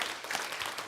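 Applause from a seminar audience at a health lecture, a short burst of dense clapping that holds steady at moderate loudness for under a second.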